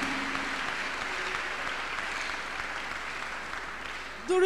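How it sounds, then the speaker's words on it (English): A church congregation claps together at a Tuesday miracle service, a broad, steady wash of many hands clapping that continues evenly throughout, with a sharper burst right at the end. "Clap your hands unto God of the choosing."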